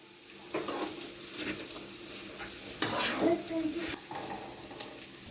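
Fried prawns tossed and stirred in a hot pan, oily sizzling with scraping clatters of the spatula and pan in a few bursts, close and fairly loud.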